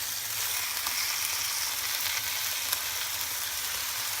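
A sausage omelette fries in a pan just after being flipped, giving a steady bright sizzle and crackle that stays even and close throughout, with no talking.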